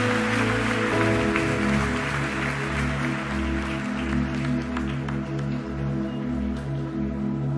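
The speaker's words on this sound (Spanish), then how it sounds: "Den un aplauso fuerte y póngase de pie," A church congregation at an evening service applauds loudly, a dense wash of clapping sustained under steady, sustained organ or keyboard chords.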